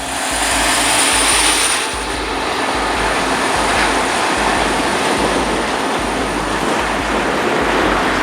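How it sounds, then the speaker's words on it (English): A yard train on a Norfolk Southern line, hauled by GE locomotives, rumbles past loud and close, its steady diesel roar carrying a regular rhythmic clatter of wheels over rail joints, with a faint high whine above. "another northbound intermodal train comes by, led by a pair of some normal, standard Norfolk Southern GEs."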